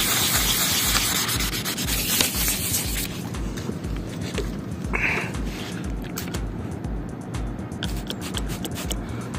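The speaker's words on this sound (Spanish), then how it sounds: "Lo que necesitamos es lija al agua, vamos a cortar un pedacito de la primera lija y con agua pues simplemente vamos a darle" Wet sanding of a yellowed car headlight lens with waterproof sandpaper and water gives a continuous rhythmic scraping, rubbing back and forth in fast regular strokes, close and steady throughout with no speech.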